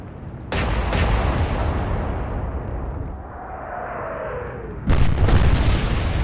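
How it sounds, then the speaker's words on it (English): Naval guns fire at turrets in the video game Atlantic Fleet, a deep booming salvo that rolls on as a long rumbling roar, followed by a second heavy blast near the end. "Let's try again to hit those turrets."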